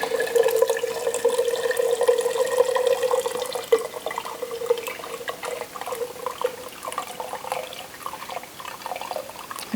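Beef bone broth pours into wide mouth quart jars as a close, continuous liquid stream, trickling and splashing steadily throughout.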